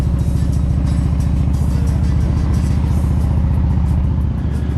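A car drives into a car park at the top of Kilmore Quay in Wexford on a rally day, its steady, pulsing engine rumble loud and close throughout with no other sounds.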